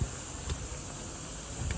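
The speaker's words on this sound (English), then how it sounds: "This is semi, the insect I said before." A steady, high insect drone of cicadas hums continuously at a moderate distance in summer in Japan, with a couple of soft clicks breaking through.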